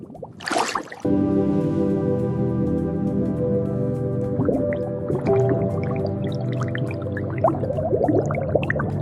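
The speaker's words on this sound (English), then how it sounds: "Break the tablet into small pieces and drop one piece in." A tablet piece drops into lava lamp liquid with a brief splash, then a steady, sustained fizzing and bubbling follows at close range, with small pops and gurgles and no talk.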